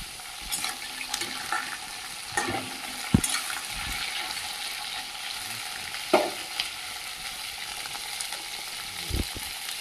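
Crabs fry and get stirred in hot spiced oil in a home kitchen, giving a steady close sizzle with occasional scraping stirs and brief clatters, with no voices.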